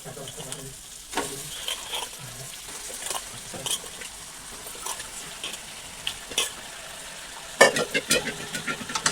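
Chicken and drumstick pieces are stirred through a curry in a pan, with irregular scraping and clinks of the utensil over a soft, steady sizzle, close by and without talk.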